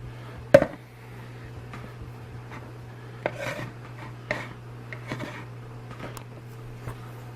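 A spoon scrapes the seeds and pulp out of a vegetable, giving an opening clack, then scattered soft rasping scrapes and taps against a steady low hum, fairly close and quiet.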